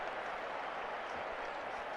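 A big rugby crowd at Loftus Versfeld in Pretoria applauds a kick during the 1986 South Africa versus New Zealand Cavaliers test, a steady, dense roar of clapping and cheering that holds at an even level throughout.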